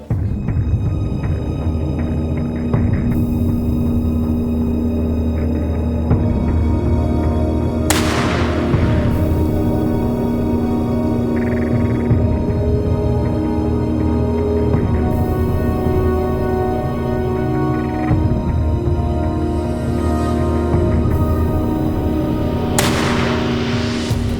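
Close, loud 7.62 rifle shots, including a .308, ring out at wild boar hogs in the night. A few sharp cracks are spread across a long stretch, each followed by a ringing decay, over a constant hum and insect chorus.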